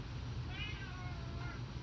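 A cat lets out a faint, drawn-out meow over a constant low rumble of background noise.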